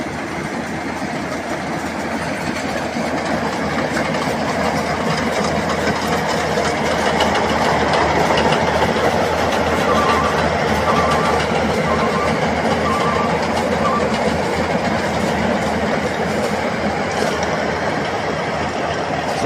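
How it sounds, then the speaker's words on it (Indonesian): A rice harvesting machine works its way through a paddy field, its heavy engine droning loudly and steadily with continuous mechanical rattle throughout. "Jadi mesin ini terus berkeliling di sawah ini, mengambil padi ini teman-teman,"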